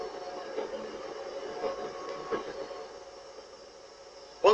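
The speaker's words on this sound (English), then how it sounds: "train heads up the 1 in 80 gradient towards Ropley" A train on the Mid-Hants Railway climbs a 1 in 80 gradient towards Ropley, rumbling steadily at a distance with a low mechanical drone and faint clanks, ending in a brief sharp squeal.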